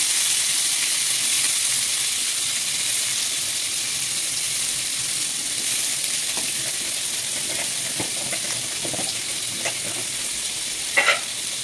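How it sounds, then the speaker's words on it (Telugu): Washed coconut sizzles in about half a pao of hot oil in a pan while making coconut chutney. A steady, close, bright frying hiss carries on throughout with a few faint stirring clicks and no voices. "సగం పావు నూనె పోసుకొని ఈ కొబ్బరి కడిగి ఇలా వేసుకోవాలి."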